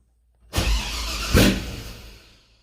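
A cammed 6.0 LS V8 with an Edelbrock Pro-Flo EFI harness cranking on its first start attempt, a loud close starter whir with a second surge partway through, then trailing off without catching.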